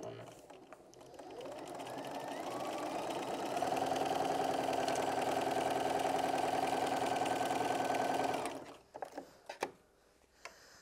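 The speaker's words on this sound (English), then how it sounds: "So with right sides together, I'm just going to sew my first 1/4 inch seam." A sewing machine stitches a quarter-inch seam on fabric laid right sides together for a tissue holder. It runs as a steady, continuous mechanical whir for about eight seconds and then stops, followed by a few soft handling clicks.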